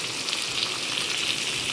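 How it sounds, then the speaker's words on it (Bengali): Fish frying in a pan on a home stove, a steady close hiss of sizzling oil that stays even and unbroken throughout. "মাছটা ভাজা হচ্ছে।"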